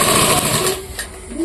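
A sewing machine runs fast and loud, stitching a big bag made from a large sack, with a dense mechanical whirr that briefly slows before picking up again.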